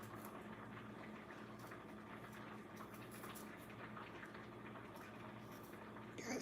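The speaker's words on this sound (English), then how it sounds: "Our rice is bubbling up." Yellow rice with cranberries bubbles in a cooking pot as a faint, steady simmering hiss and gurgle that continues unchanged throughout, with no talking.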